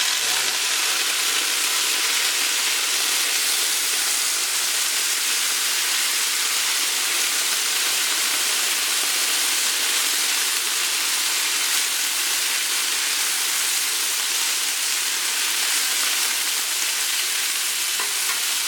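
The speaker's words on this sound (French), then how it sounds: "C'est de mettre un tout petit peu d'eau. Et ça cuit un peu à la vapeur." Green vegetables cook in a pan with a little water, giving a steady, even hiss of steam and gentle sizzling that runs unbroken at moderate volume, with no talk.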